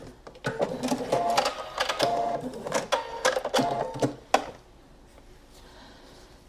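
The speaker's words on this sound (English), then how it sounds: "So I'm going to continue sewing along." A sewing machine stitches a seam along knit fabric with interfacing, a close, rapid mechanical chatter lasting about four seconds before stopping into near quiet.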